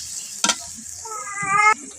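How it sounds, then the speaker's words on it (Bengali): Onions nearly done frying in a pan for a fish curry with sour star fruit give a soft, steady sizzle with a couple of brief stirring knocks, close by, while a voice briefly sounds over it. "আমার পেঁয়াজগুলো কিন্তু ভাজা প্রায় শেষ হয়ে গেছে"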